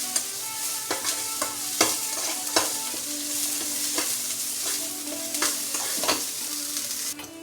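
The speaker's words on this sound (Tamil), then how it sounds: "வெங்காயத்தை போட்டு நல்லா வதக்குங்க." Onions sautéing in a pan for black kavuni rice paniyaram, a steady sizzle broken by repeated sharp scrapes and taps of a spatula stirring, close and alone with no talk.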